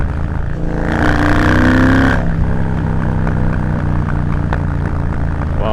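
Triumph Bobber motorcycle with reverse cone slip-on exhausts, loud and close: a brief rev swells and drops back to a rumbling idle, with sharp pops crackling afterwards.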